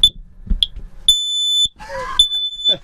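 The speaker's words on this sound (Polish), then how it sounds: "Tym razem na podróż zabrałem jeszcze czujnik dymu, który wygląda tak. Jest to czujnik firmy Kidi i robimy test." A Kidde smoke detector runs its test, giving short shrill beeps and then long piercing alarm tones, with a synthetic voice sounding between tones, loud and close.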